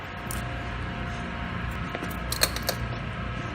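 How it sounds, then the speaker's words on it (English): A half-inch ratchet works on the bolts of a Zamboni board brush, heard as faint metallic clicks and a few sharper clinks over a low steady background hum, with no speech. "So you get a 1/2-inch ratchet."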